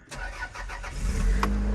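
A first-generation Toyota RAV4 with a manual gearbox and a 2-liter naturally aspirated four-cylinder cranks over with a few quick starter pulses, then catches and settles into a steady, close, loud idle hum.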